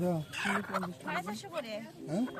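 Live chickens and ducks at a traditional village market in Dakop, Bangladesh, their clucks and squawks repeating close by over a continuous busy murmur of voices.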